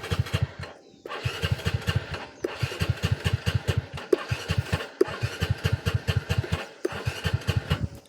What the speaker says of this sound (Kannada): ನೋಡಿ, ಸ್ಟಾರ್ಟ್ ಮಾಡಿ ತೋರಿಸ್ತೀನಿ ನಿಮಗೆ.